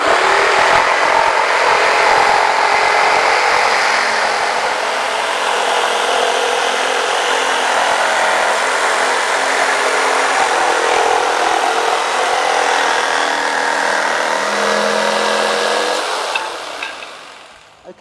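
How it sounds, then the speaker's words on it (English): A Black & Decker KS900EKX jigsaw with pendulum action cuts with a loud, continuous buzzing rasp that holds steady for most of the time before trailing off at the end. "this would completely change the characteristics of this jigsaw"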